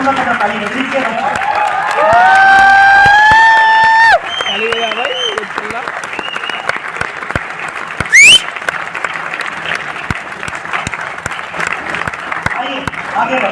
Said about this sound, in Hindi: जब तक मैं पानी पीऊंगा तब तक ताली बजनी चाहिए।